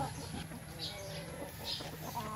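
Backyard chickens and stags cluck and call faintly against a steady background hum, with no clear single voice standing out.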